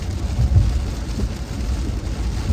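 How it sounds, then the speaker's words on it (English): Steady rain on a car driving along a highway, a continuous wash of patter blended with low road rumble throughout. "Hopefully this rain clears up."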